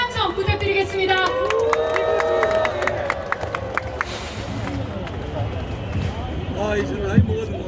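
A crowd at an outdoor political rally raises a cheer alongside clapping, while an amplified voice talks over the crowd noise, which swells and ebbs.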